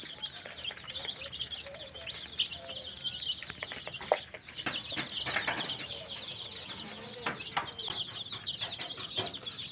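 Broiler chicks in a brooder give a continuous busy chorus of high, thin chirps and peeps, dense and fairly close, with scattered louder cheeps throughout.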